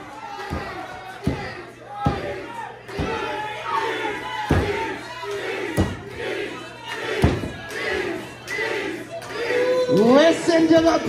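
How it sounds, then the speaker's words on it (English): Crowd at an indie wrestling match in Penticton roars and chants in rhythmic bursts, punctuated by heavy slams and thuds on the ring, loud and close throughout, swelling at the end. "Listen to the Penticton crowd, wholeheartedly behind Deeds."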